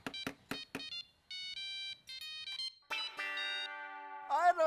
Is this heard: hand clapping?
no